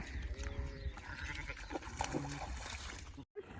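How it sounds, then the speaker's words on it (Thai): A ewe and her lambs bleating on a sheep farm during a flood, several wavering bleats mixed with splashing water and steady outdoor noise, close and moderately loud. "ชิปปี้ you can make it น้ำท่วมนะคะ ดูแม่แกะกับลูกจะข้ามยังไง come on Come on, Tippy."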